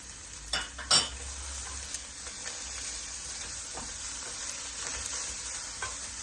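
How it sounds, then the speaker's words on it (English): Minced garlic and an onion saute in a pan with a steady, close sizzle, broken early by a few louder clinks and scrapes of a utensil stirring, then settling into even frying. "So we just let that saute a little bit."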